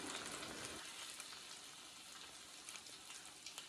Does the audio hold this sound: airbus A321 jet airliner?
no